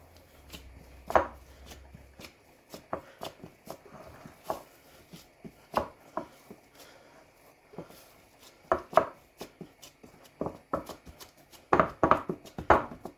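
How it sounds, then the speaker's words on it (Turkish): Potato köfte mixture kneaded by hand, giving soft, irregular squelching and slapping pats at close range, quiet with occasional louder presses and no talk. "Köftemizi güzelce yoğuruyoruz"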